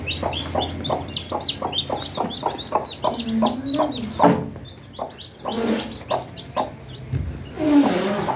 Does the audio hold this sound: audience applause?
no